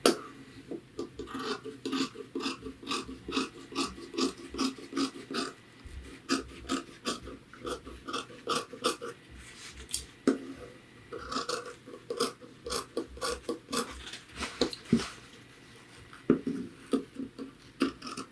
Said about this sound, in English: I'll continue clipping and removing this seam allowance.